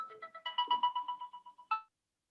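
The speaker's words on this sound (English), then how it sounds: "someone is calling." A phone ringtone sounds for an incoming call, a bright repeating electronic melody of quick tonal pulses that plays alone in a quiet room and cuts off after about two seconds.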